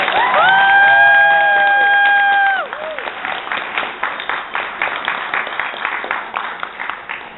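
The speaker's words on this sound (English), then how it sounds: "Mr. James Randi, who deserves that thundering round of applause" A big audience applauds for James Randi at a Carl Sagan Day event, opening with loud sustained tones over the crowd, then settling into steady, dense clapping that continues near and full to the end.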